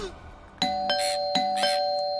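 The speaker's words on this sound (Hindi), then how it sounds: "अरे कोई घंटी बजा रहा है और तुम दरवाजा नहीं खोल रहे हो?" A doorbell chimes twice in a two-tone ding-dong, each pair of bright ringing notes clear and close, sustained tones lingering between strikes.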